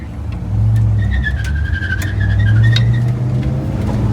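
A 1965 Ford Ranchero on a test drive accelerates, its engine note rising in a loud close roar with a climbing whine and some tire noise, heard from inside the vehicle without speech.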